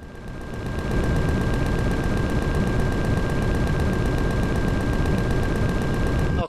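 Sustained rapid automatic gunfire in the space survival game Empyrion, shots hammering through an enemy core in a dense, continuous barrage that runs loud and unbroken before cutting off abruptly.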